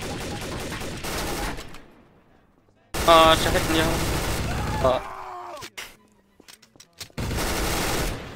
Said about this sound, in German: Oh je, er schießt auf mich.